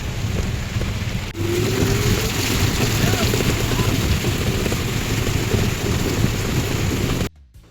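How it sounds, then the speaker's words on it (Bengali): Heavy rain pours down steadily at a market, a dense close roar of rain on surfaces with a low rumble of thunder, cutting off abruptly at the end. "বাজারে এসে বিপদ হয়ে গেল কি বৃষ্টি দেখো"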